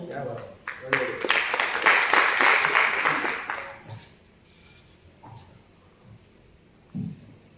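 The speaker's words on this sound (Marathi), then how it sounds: "मला टाळ्या खूप कमी येत आहेत" Audience applause at a Marathi ghazal mushaira, a loud burst of clapping lasting several seconds before fading out, followed by a quiet hall with a brief voice.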